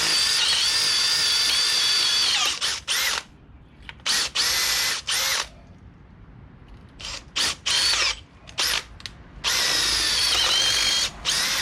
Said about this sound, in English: I think I'm going to have to go back to the plan of drilling them out.